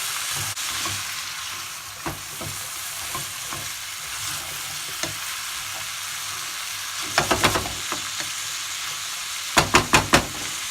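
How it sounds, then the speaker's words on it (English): Food frying in a pan, a constant low sizzle broken by sharp clacks and scrapes of a utensil stirring, with quick clusters of knocks near the middle and end. "I'm going to give it a stir to mine"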